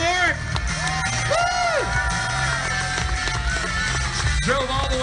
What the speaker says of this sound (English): Round of applause for Neil Cavalaric.